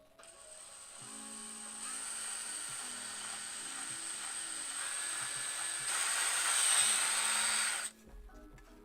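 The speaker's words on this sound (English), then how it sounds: "I've got a drill for, like, literally 10 seconds here" A power drill bores a hole through a custom game controller's shell, giving a steady, piercing whine for about seven seconds that grows louder and harsher toward the end before cutting off abruptly.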